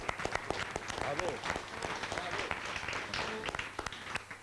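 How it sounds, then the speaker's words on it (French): Audience applause at an event, a brief burst of scattered clapping heard alongside talking voices. "On peut l'applaudir bien fort"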